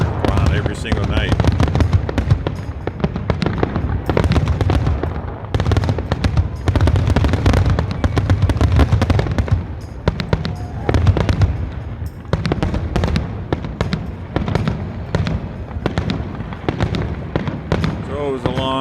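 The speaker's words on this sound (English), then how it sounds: "these fireworks go on every single night" Dense, continuous crackling bursts and pops of fireworks fill the scene, loud and rapid with voices mixed underneath.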